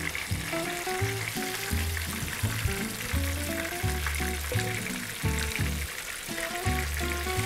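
Scup fish fry in hot oil in a pan, with a steady, dense sizzle and crackle that runs throughout under background music.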